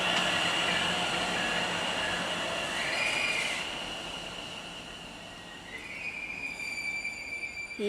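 A Chiltern train passes at South Hampstead, a steady rushing rail roar with high wheel squeal tones drifting in pitch, easing slightly midway then swelling again; no one speaks.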